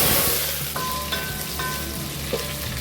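Onions frying in a pan for a yam and vegetable dish, a steady close hiss of sizzling oil under music, with a few faint clinks.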